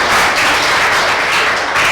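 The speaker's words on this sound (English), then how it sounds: "a very big round of applause, ladies and gentlemen, for both teams." A loud, sustained round of audience applause for both teams at a televised face-to-face school quiz, a dense, even roar of clapping that carries on without pause and with no talk on top.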